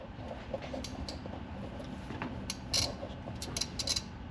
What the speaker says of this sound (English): what you're hearing right now is a relay that turns on my oil accumulator